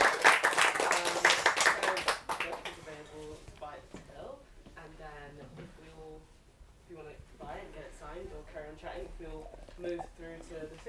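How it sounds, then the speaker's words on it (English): An audience at a bookshop author talk with Sarah Grant claps loudly for about two seconds; the applause fades quickly into a speaker talking close up. "let's give Sarah a big round of applause"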